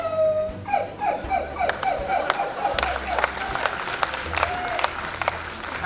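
A person's voice imitates a dog howling and crying, a run of repeated short wailing cries that slide downward, with crowd noise and applause-like clatter behind.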